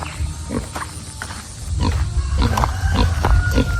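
A sow in a piggery grunts repeatedly, close and loud, in short rough bursts spaced about half a second apart over a steady low rumble.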